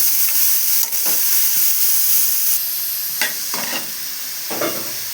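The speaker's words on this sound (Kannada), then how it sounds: "ಫ್ರೈ ಮಾಡ್ಕೊಬೇಕು ಗೋಲ್ಡನ್ ಬ್ರೌನ್ ಬರೋವರೆಗೂ" Bitter gourd slices sizzle steadily in a hot pan on a low flame, frying toward golden brown, with a loud continuous hiss and a few scraping stirs of a spatula scattered through.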